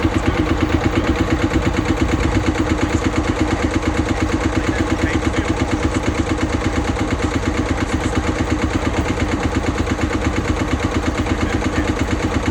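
A Marshall tractor engine runs steadily at idle, a loud, continuous low chugging with a fast regular pulse throughout.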